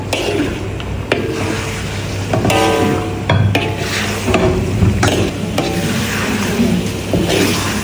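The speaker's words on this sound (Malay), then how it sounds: "kita masukkan ayam dulu" Chicken sizzling in a hot pan with repeated scraping and clanking of a utensil stirring, loud and close, continuing throughout.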